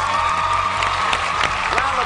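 Studio audience at a televised singing competition cheering and applauding the male contestants, a steady loud roar of claps, whoops and shouts throughout, with a host's voice mixed in.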